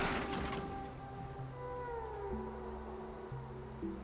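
A cat meows in a video game, several drawn-out tonal cries rising and falling over a steady low hum of background game ambience, fairly close and clear with no talking.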